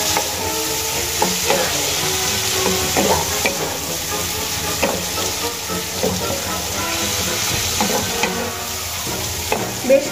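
Chopped medium-sized tomato sizzles and fries in a pan while being stirred, a steady close crackle broken by repeated scraping strokes of the spoon throughout, with no talking.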